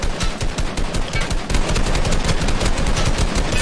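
Rapid automatic gunfire in a Fortnite box fight with gray weapons, loud sustained bursts of shots crackling densely and continuously with no pauses.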